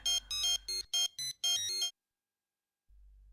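A phone ringtone sounds during an outgoing call in a Tamil serial household scene, several loud patterned bursts for about two seconds, then silence with a faint low hum.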